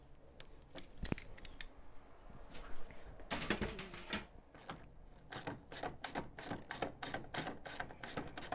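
A ratchet wrench clicks while loosening 13 mm nuts on a BMW E39, at first in scattered bursts, then in a quick regular run of sharp close ratcheting strokes.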